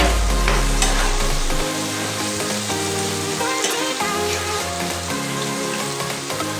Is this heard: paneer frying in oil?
yes